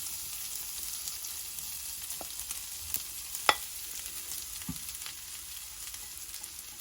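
Grated coconut sizzles steadily in a hot pan for a snack of ripe plantain, with occasional scrapes and taps of a spoon stirring it, close and fairly quiet with no talking.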